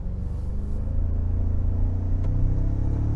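A 2024 Toyota Tacoma Trailhunter engine breathing through its snorkel while driving on road, a low steady rumble that swells slightly as the truck pulls, close and continuous with no voices.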